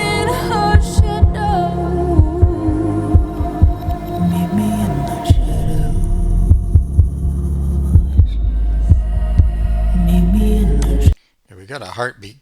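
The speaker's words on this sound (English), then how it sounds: "got a heartbeat going on by the sound of it here" A thumping heartbeat pulse runs through a song, with deep regular beats under sung vocals and music, loud and close, cutting off abruptly near the end.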